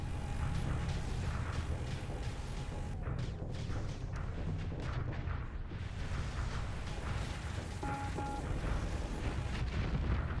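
Weapons fire hammering a ship's shield in Starsector, a dense, continuous rumble of booms and crackling impacts with no break, thick and steady throughout.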